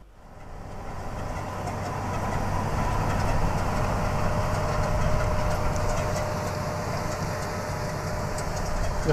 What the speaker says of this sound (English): Then the seeder comes in and sows the seed.